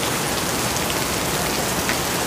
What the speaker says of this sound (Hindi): बारिश इतना जोर जोर से दे रहा है ये तो अभी जल्दी रुकने वाला नहीं है